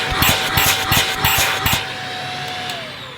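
A Shark Powered Lift Away vacuum cleaner with suction loss runs with a steady high whine, broken in the first half by a series of quick rhythmic thumps and pulses before settling into an even drone.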